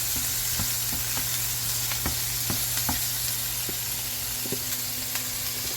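Tomato pieces sizzling in a pan while cooking pesalu kura, a constant bright hiss with a few faint clicks and taps from the utensil, close and unbroken, no voice.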